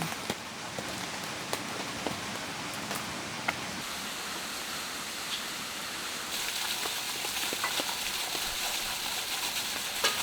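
Heavy, steady rain drums on an air tent during an all-day downpour at a campsite in Yangpyeong, a dense continuous patter with scattered sharper drops, slightly louder in the second half and close around the listener, no talking.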